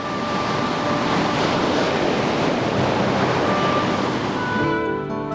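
Ocean waves wash onto a beach in a steady, loud broadband roar of surf that continues without pause, with a touch of wind, and fades near the end.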